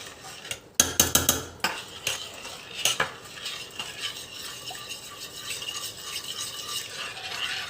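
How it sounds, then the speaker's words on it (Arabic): A spoon stirring cream with butter or ghee in a metal pot, a burst of sharp rapid clinks and scrapes followed by softer steady stirring over a light sizzle, no talking. "كده نزلنا بالقشطه، هنقلب القشطه"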